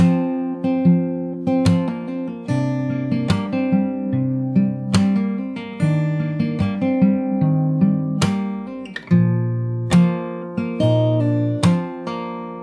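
Fingerstyle acoustic guitar plays a second verse, with plucked bass notes and melody in a steady, rhythmic pattern, close and clear with no voice.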